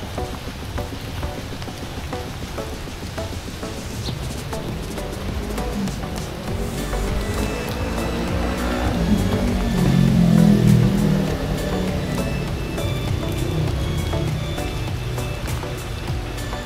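Steady rain falls on a road in Laos while a vehicle passes by, its rumble swelling around the middle and fading again under the constant hiss of the downpour.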